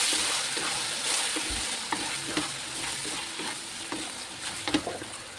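Liver for bihon fries in a pan with a soft, steady sizzle, while scattered faint taps and scrapes of stirring come through close by.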